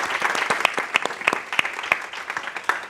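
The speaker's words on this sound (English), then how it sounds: "Let's give a big round of applause for Lift Up Pillar." Dense, lively applause from an audience at a stakeholder and media engagement event: many hands clapping at once in a continuous, loud patter for several seconds, with no talking on top.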